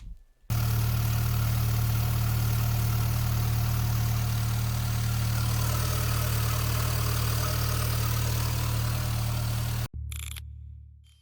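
An Audi 80 engine, just fitted with a new idle control valve, idles with a smooth, steady low hum. It sounds loud and close, with no voices, then drops away after a brief break near the end.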